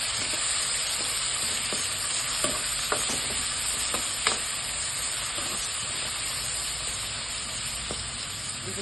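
Onions added to about five or six spoons of hot oil in a pan with bay leaf, cinnamon and cloves fry with a steady dense sizzle, with scattered clicks of stirring throughout and no talking.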